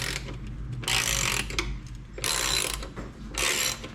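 A ratchet clicks in three bursts of rapid ratcheting, separated by short pauses, as bolts come off a bracket on a 2022 Harley-Davidson Street Bob 114 during a saddlebag install. The sound is close and loud and there is no talk.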